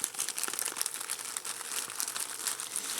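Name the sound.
crinkling plastic component bags of a eurorack kit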